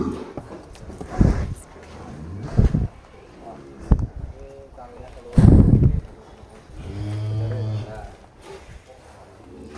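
White Brahman-Simmental crossbred cattle in a rural pen, with a low drawn-out moo near the end and scattered animal sounds and thumps, while people talk over much of it.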